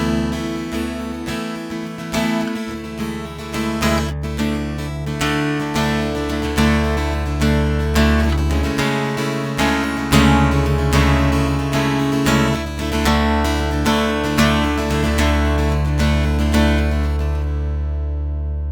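An acoustic guitar plays the bridge of a song, strummed chords ringing steadily and close with a rhythmic pulse, alone without talk.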